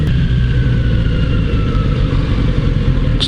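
A Kawasaki Z900RS Cafe motorcycle with its stock muffler runs nearby with a steady, loud, throbbing engine note that stays even throughout, with no voices.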